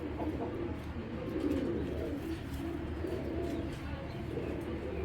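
Giribaz pigeons coo close by, giving low throaty coos that repeat steadily over a soft background murmur.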